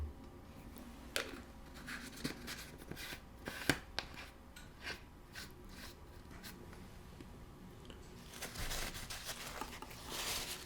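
A paper towel rubs grease across a pan in a quiet kitchen, making faint soft scuffing and wiping strokes with occasional light taps, close up and alone.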